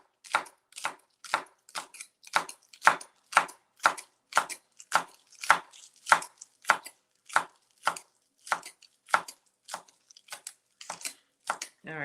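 Onions chopped with a knife on a cutting board: a steady run of about two dozen crisp, evenly spaced thuds, close and clear against near silence, with no talking.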